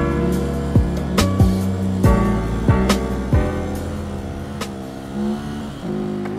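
A warmed-up Benelli motorcycle engine revving and accelerating hard, close and loud, with repeated sharp gear shifts and pitch climbs as it pulls through the gears.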